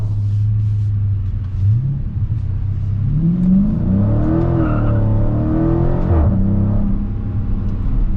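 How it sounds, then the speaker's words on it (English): A 2020 Dodge Challenger Scat Pack accelerates hard with a deep, loud engine rumble that climbs through rising revs and gear changes, with a brief dip midway and no talking. "So I just smash down on the accelerator and it puts me in the gear that I want to be in."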